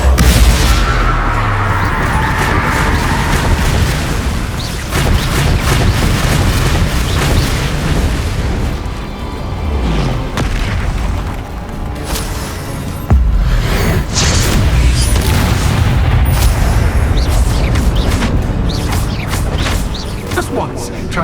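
Spell explosions from the video game Hogwarts Legacy, including Bombarda blasts, boom repeatedly through dense, loud combat noise with music, with little pause across the stretch.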